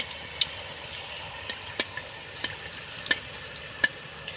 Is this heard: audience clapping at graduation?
no